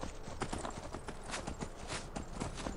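Horse hooves clip-clop steadily in the video game Skyrim, a close, even run of brisk hoofbeats with no talking over them.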